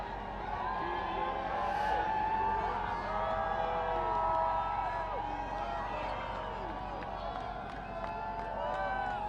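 Large crowd at the Michigan national championship parade, a steady dense murmur of many voices with scattered whoops and cheers throughout.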